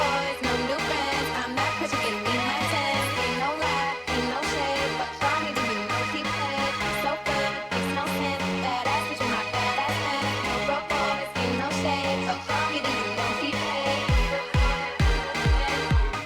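A DJ stems mashup transition brings in the melody and main part of a track at full volume, with a driving beat, pulsing bass and layered synths, ending in rapid bass drops.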